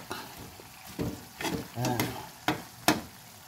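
Alamang shrimp paste is stir-fried in fatty oil with a series of spatula scrapes and soft sizzling bursts, close and moderately quiet, with a brief murmur of a voice in the middle.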